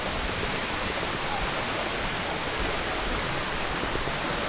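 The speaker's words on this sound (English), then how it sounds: "We just reached the waterfall." A waterfall roars as a dense, steady wash of broadband noise, loud and unbroken throughout with no voices.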